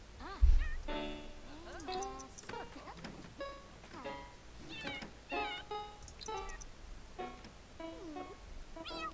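Several cat meows from a The Sims 4 video game, some drawn out and plaintive, recur over soft background music, close and moderately loud.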